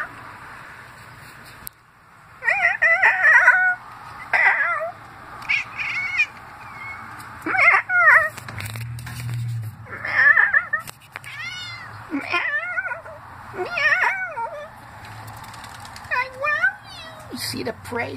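Pet cats make funny chattering meows and caterwauls at birds, a series of close, loud, wavering cries in bursts with short pauses, mixed with a person speaking.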